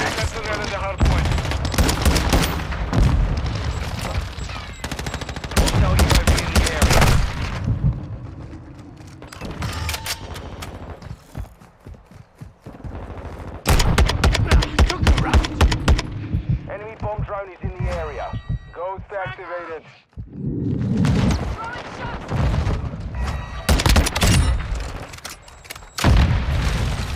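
Heavy gunfire from Call of Duty: Modern Warfare 2, with dense bursts of automatic weapons and explosive blasts coming in loud waves separated by brief lulls, under game voice callouts.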